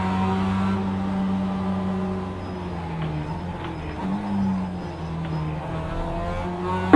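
Race cars in a racing video game rumble with a steady, droning engine tone that holds across the whole stretch, fairly loud and continuous, with a slight dip and swell partway through and no talk over it.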